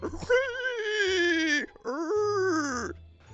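A voice mimics a fleeing Minecraft mob, giving two drawn-out, whimpering cries separated by a brief gap. Each cry is loud, close and tonal, with a wavering pitch that drops toward its end.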